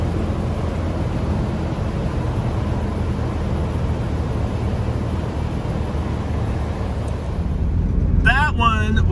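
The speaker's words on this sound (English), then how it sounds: "The noise you heard from the condenser fan" A mini split condenser fan, just repaired after a blown fuse and burned wiring, runs with a steady, close broadband whoosh, and a short voice breaks in at the very end.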